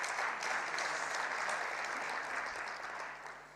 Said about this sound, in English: That in isolation already deserves a massive round of applause.